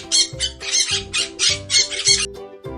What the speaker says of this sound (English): Which bird is hiding behind the tree? Yes, parrots are behind the tree.